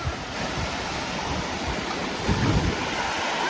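Steady roar of surf and gusting wind on the main beach at Port Stanley, close and loud, with a wave surge building midway and wind buffeting the microphone throughout.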